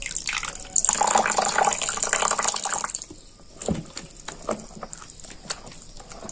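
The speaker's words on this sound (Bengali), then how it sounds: "আমি আর একটু জল দিয়ে দিচ্ছি" Water poured into a bowl of pitha dough made with radish, a bright splashing pour for about two seconds, followed by softer wet squelches and taps as the mixture is handled by hand.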